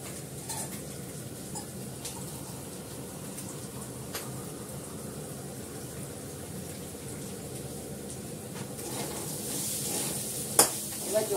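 Spices being stir-fried in a pan before water is added, a soft steady sizzle with light scraping and a few metallic clinks of the utensil, growing busier near the end.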